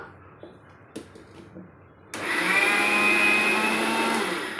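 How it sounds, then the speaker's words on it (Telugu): A mixer grinder grinding black sesame starts up abruptly partway through and runs loud and steady, a whirring motor grind that follows a few quiet clicks. "మిక్సీ చేస్తే సరిపోతుంది బాగా కచ్చపచ్చగా అయిపోతుంది"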